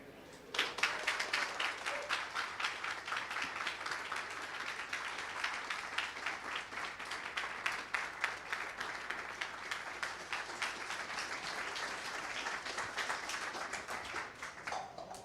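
An audience at a talk on political systems and networks claps in a sustained round of applause, a dense, even patter of many hands from start to finish after a brief quiet lead-in.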